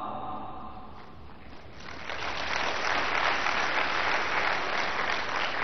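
Audience applause at a spiritual talk, steady dense clapping that swells louder after the first two seconds and carries on to the end.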